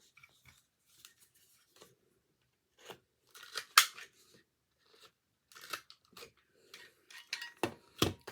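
Scissors snip through paper for a Stampin' Up advent calendar in short, crisp cuts, close and quiet, coming in irregular clusters with brief gaps between.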